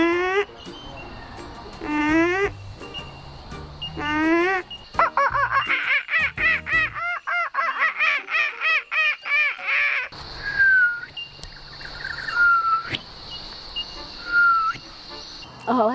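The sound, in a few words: children imitating bird calls at a bird call contest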